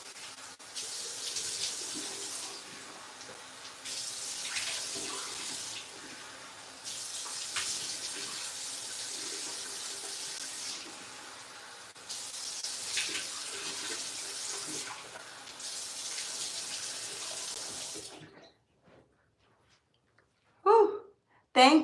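Tap water runs into a sink while a face is rinsed, a continuous close splashing rush broken by rhythmic scooping pauses, then the flow stops and a few short breathy sounds follow.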